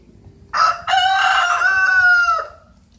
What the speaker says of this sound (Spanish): Bueno, ya oís al gallo